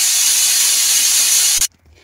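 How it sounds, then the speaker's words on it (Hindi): Pressure cooker on a kitchen stove releases steam in a loud steady hiss that cuts off abruptly, leaving near silence. "ये हमारे कुकर की स्टीम निकल चुकी है"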